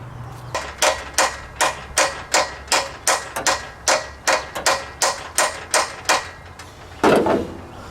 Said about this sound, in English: I'm gonna have to probably hammer a socket on those